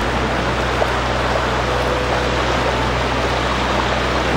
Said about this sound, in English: This is Moose Creek.